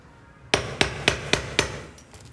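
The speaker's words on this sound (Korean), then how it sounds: "손 조심하셔야 돼, 망치라서." A hammer strikes five times in a steady rhythm while customizing a sneaker, each blow a sharp, close metallic knock, followed by a couple of fainter taps at the end.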